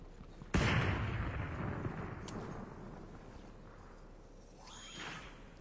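A sharp, loud sniper shot cracks once in a video game, followed by a long rolling echo that fades, with a fainter whooshing sound near the end.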